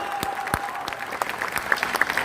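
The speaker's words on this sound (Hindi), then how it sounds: "ताली बजाओ एक बार जोरदार इन कार्यकर्ताओं के नाम पर" At a candle-march rally, a crowd bursts into applause for party workers, with loose, uneven clapping and a few sharp, close hand strikes over a continuous background of claps.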